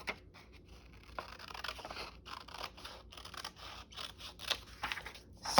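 Scissors snip through paper for a spring craft journal with library pockets, a quiet close run of irregular crisp cuts and rustles, with no talk.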